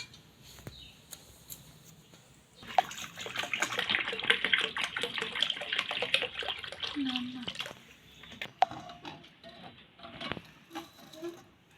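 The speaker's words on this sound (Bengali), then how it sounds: "এবার একটুখানি জল দেব আমি আর একটু" Lukewarm water poured into a small bowl for soaking a conch shell, a close splashing and pattering pour lasting several seconds and then tapering into drips and faint handling sounds.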